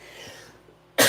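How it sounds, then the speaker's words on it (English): A single sharp, loud cough breaks in at the end, close to the mic, after a stretch of quiet room tone. "I have not coughed all day."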